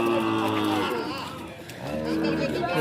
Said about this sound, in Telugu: ఇవన్నీ ఆవుదోళ్ళే, అన్నీ ఆవుదోడలే